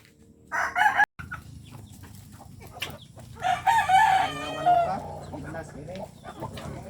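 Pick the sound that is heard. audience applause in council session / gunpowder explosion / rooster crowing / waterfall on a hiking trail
rooster crowing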